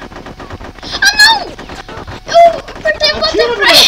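Rapid machine gun fire in the Conker's Bad Fur Day video game, short bursts crackling under excited overlapping voices and cartoonish game effects.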